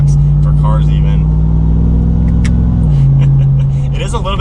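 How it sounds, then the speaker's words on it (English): Supercharger whine from a 2021 RAM 1500 TRX pickup in sport mode, a strong steady tonal whine over deep engine rumble that dips in pitch partway through, with faint cabin sounds near the end. "I love that supercharger whine"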